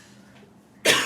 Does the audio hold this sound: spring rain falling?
no